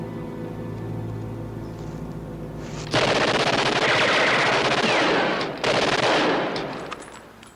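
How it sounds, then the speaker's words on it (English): Sustained automatic gunfire from a war film rips loud and continuous for several seconds after a brief music-filled lead-in, with dense rapid bursts that ease slightly toward the end. "You're firing at the wrong guys."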